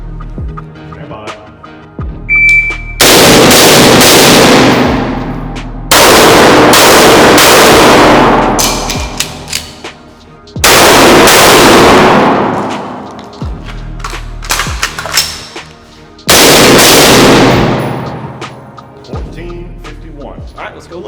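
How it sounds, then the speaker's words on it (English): Rifle fire on an outdoor shooting drill with rifle and pistol: four loud, sharp reports spaced a few seconds apart, each ringing out with a long echoing decay, and quieter handling noise between the shots. "I'm going to step out and fire 2 with the rifle"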